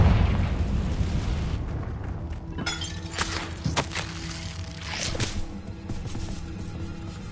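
Confringo blasting spell explosions in Hogwarts Legacy, several sharp bursts with shattering, crackling debris over a low rumbling bed, spaced across a few seconds and fairly loud.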